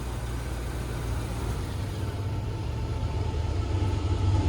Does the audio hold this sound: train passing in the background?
yes